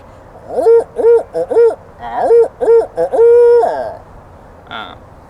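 A man imitates an owl's hoot with his own voice, used as a turkey locator call: a rhythmic series of close, loud hooting notes in groups, ending with a short higher call.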